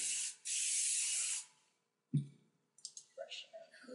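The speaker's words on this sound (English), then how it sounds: "Give it a little spray." Two short hissing bursts of hairspray on a bridal up-do, close and clear, then a click and quiet brushing and handling sounds afterward.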